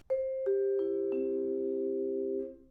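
Vibraphone with the damper pedal held down, so a few struck bars ring on undamped. Soft mallet notes enter one after another and blend into a long, sustained, shimmering chord that slowly fades, quiet and close.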